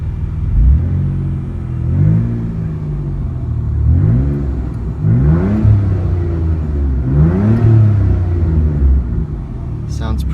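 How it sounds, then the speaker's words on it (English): 1998 Chrysler Sebring Coupe in park, revved several times through a Flowmaster exhaust, heard from inside the car: repeated rising and falling blips over a steady idle rumble, with a voice speaking briefly at points. "And you can hear that Flowmaster exhaust. So we are in park. Let's give it a couple revs."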